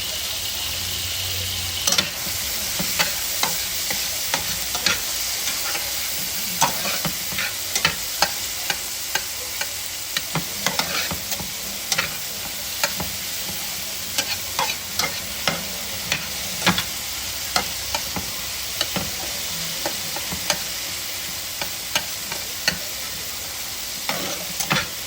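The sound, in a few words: tomatoes frying and being stirred in a pan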